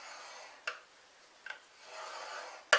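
Cardstock being scored at the 1.5 inch mark for a box card: a few short, soft scraping strokes and a longer rub, closing with a sharp click, close and quiet with no talking.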